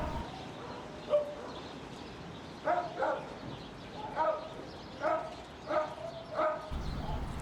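Dogs at an animal shelter in winter bark in repeated single and double barks, moderately close and evenly spaced, over a quiet background.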